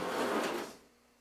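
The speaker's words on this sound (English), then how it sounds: "Full drawer down here." A drawer at the bottom of a wood cook stove slides open in a single short scraping, rumbling motion that is close and fairly loud, then stops, leaving a quiet room.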